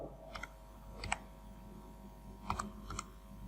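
ID card number being typed on a computer keyboard, four short clusters of quiet key clicks spaced irregularly, close and faint over low background hum.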